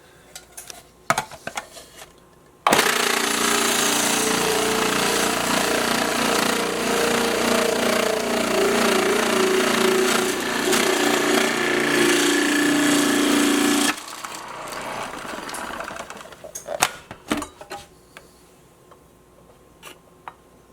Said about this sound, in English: Hear that? It's frozen. That's why we're using this to grate it.